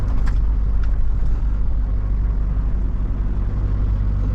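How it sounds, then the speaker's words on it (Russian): Steady, loud low-frequency engine rumble of a Toyota car driving past on a frozen ice crossing near Yakutsk in freezing weather, with heavy trucks also on the road; continuous drone with no talk. "А тут какой-то Тойота едет."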